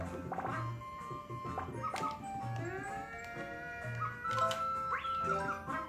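Cartoonish Poochy Pup dog sounds from the Yoshi's Crafted World video game: a quick series of high yips, whimpers and barks amid bright game chimes and effects, fairly close and lively, with no talking.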